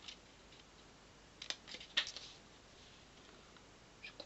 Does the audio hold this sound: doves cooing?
no